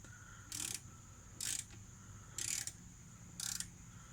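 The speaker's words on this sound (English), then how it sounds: "he's tightening down the back rack" Ratchet tightening down the back rack on a 1984 Honda 200S ATC, heard as four short bursts of clicking spaced about a second apart, moderately close over a low background hum.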